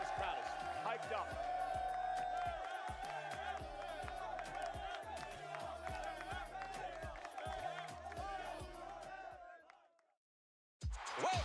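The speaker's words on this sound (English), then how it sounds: "This crowd is hyped up." A hyped arena crowd roars at a WWE Night of Champions 2025 event in Riyadh, Saudi Arabia, a loud, dense, continuous din under a talking voice that fades out near the end before a brief burst returns.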